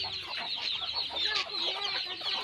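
Hens and small chicks on a farm fill the air with steady clucking and high thin peeping, close and continuous, with no voices over them.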